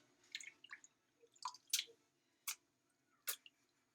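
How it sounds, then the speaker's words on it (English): Water drips and patters off freshly rinsed elderflowers as they are shaken, a handful of scattered wet taps and splashes with gaps between them, quiet and close with no talk. "Shake the excess water off."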